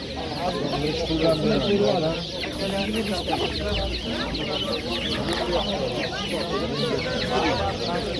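Many roosters cluck continuously at an Uzbek poultry bazaar, a thick steady layer of nearby bird calls with market voices and someone speaking mixed in.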